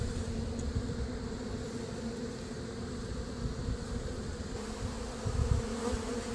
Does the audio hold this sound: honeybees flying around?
yes